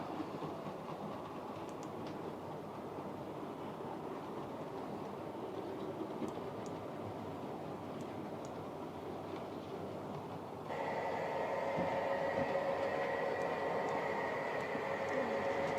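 A sound unit in a model A-class locomotive runs with a steady, low rumbling engine drone and faint rail clatter, growing louder with an added tonal hum partway through, alone and quiet.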